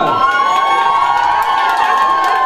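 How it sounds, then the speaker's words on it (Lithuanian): A crowd at a student freshers' initiation party shouts and cheers loudly and without a break, with high excited voices and whoops filling the whole short burst. "Plojimai!"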